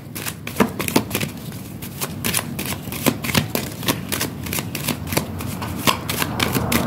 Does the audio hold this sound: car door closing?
no